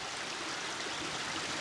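A stream flows steadily around a 2022 Vertigo Nitro 300 trial motorbike, a continuous even wash of moving water, moderately close and with no voices.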